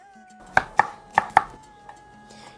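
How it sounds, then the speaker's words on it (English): A kitchen knife chops a green pepper for a salad: four crisp, close cuts in quick pairs, then a lighter knock near the end. No one speaks. "So I'm going to cut my green pepper."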